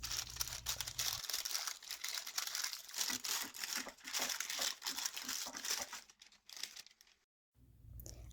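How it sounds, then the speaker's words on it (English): Parchment paper crinkling and crumpling as it is pressed into a baking pan for date squares, a dense run of close, sharp rustles that stops abruptly near the end, then resumes briefly. "You want to make sure your parchment paper sticks well to the edges."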